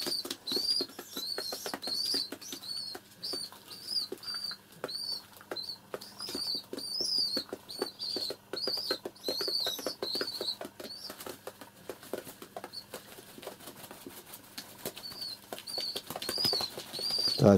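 Rock pigeons (wild-type ferals) indoors in a room, wings flapping and fluttering in repeated bursts throughout, with high squeaky calls recurring steadily over a low room hum.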